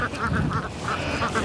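Ducks quacking at a duck farm, a steady run of about eight nasal quacks in quick succession, close and fairly loud over low background noise.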